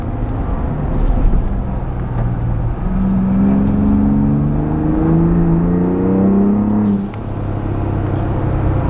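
A 2022 Ford Raptor with an EcoBoost engine and an aftermarket turbo blow-off valve accelerates with a loud, steady rising drone. Near the end the throttle lifts and a brief whooshing release is heard.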